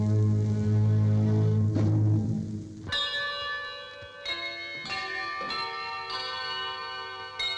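Church bells in New Plymouth, rung by hand by bell ringers, strike a series of bright, resonant peals with long ringing decay, following a low sustained tone at the start.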